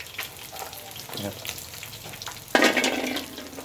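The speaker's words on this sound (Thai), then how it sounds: "นี่เขาจะคั่วพริกนะครับ" Sizzling and crackling as chilies dry-roast in a hot pan, starting softly and then flaring into a loud burst of frying noise.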